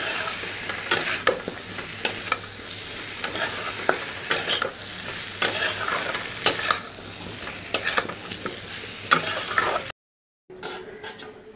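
Fried taro pieces sizzle in a spiced pan while a spatula stirs them, sharp scraping strokes landing at an irregular rhythm over a continuous crackle, ending in a brief silence and then a quieter return.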